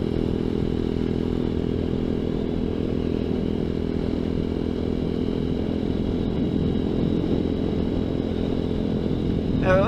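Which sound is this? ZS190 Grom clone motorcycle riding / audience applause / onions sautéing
ZS190 Grom clone motorcycle riding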